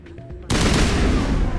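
After a moment of quiet background noise, loud rapid Mass Effect Legendary Edition gunfire erupts and continues as a dense, sustained burst.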